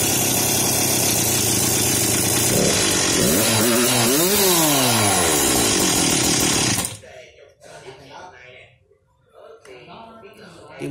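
A Husqvarna 357XPG chainsaw engine runs loud and close, revving up and down with a rising and falling whine before cutting off abruptly, leaving a quieter stretch with some background noise.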